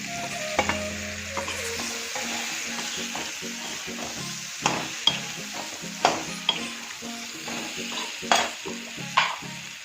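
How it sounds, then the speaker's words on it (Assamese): Potatoes are added to a pan over medium heat and sizzle steadily, with scraping and stirring clinks of a utensil against the pan close by. "গেছটো মিডিয়ামত ৰাখিব লগত মই আলুখিনি দি দিম"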